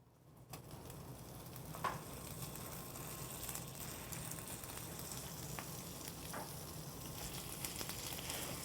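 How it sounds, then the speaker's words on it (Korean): Spanish mackerel pan-frying skin side down over low heat, a steady soft sizzle running throughout at moderate distance, with a few faint clicks and no talking. "구울 때는 껍질 쪽을 먼저 구울게요."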